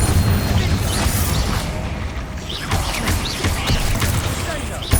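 Explosive Confringo spell cast in the Hogwarts Legacy video game, a low booming blast set within continuous loud rumbling battle noise, with no clear gaps or pauses.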